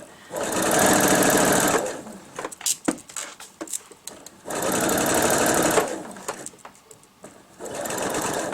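Close sewing machine stitching in runs, a steady buzzing whir that starts and stops, with clicks and handling noises between the bursts.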